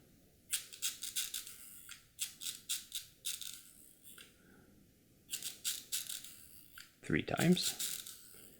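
Crank of a Curta II mechanical calculator turned in quick bursts of sharp ratcheting clicks, several close rotations in a row with short pauses between, ending in a louder clunk; someone speaks briefly in the middle.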